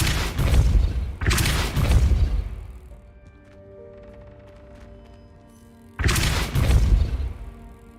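Depulso force spells are cast in Hogwarts Legacy: heavy, loud booming blasts, two close together at the start and another after a quieter stretch of lingering magical ringing.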